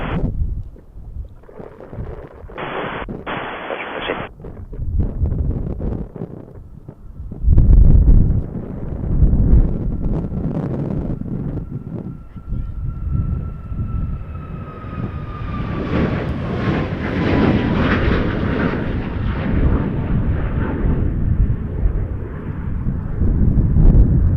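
Passenger airplane taking off in strong wind at Montréal-Trudeau International Airport, bound for Santo Domingo; gusty wind buffets the microphone before the jet engines swell into a loud, rising roar that holds to the end.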